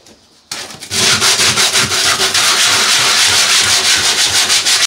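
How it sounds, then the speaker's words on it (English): Coarse sandpaper rasping hard against a surface during bathroom renovation prep, steady rhythmic back-and-forth strokes, loud and close, after a brief quiet start. "I'm using a very harsh sandpaper on here, just to try and get this off."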